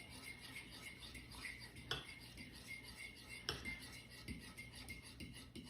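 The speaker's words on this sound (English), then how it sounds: "you take a half a cup of whipping cream and mix it with 3 egg yolks" Half a cup of whipping cream and three egg yolks being mixed in a bowl for a chocolate raspberry dessert, with soft scraping and clinking of a utensil against the bowl and a few sharper taps.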